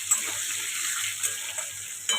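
Chicken meat sizzles and fries steadily in a pan over a home kitchen stove, a continuous bright hiss with a few faint stirring clinks and utensil taps, no talking.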